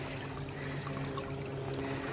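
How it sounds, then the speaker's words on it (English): Small stream running through an Alaskan forest, a soft continuous trickle and pour of water, steady and fairly faint, with no voices. "There's a cute little stream running down."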